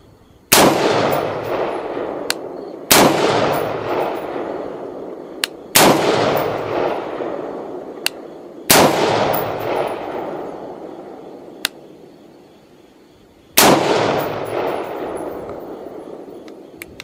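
A rifle fitted with a BCA billet upper fires at a shooting range: five sharp, loud reports at uneven intervals, each ringing out with a long echoing decay.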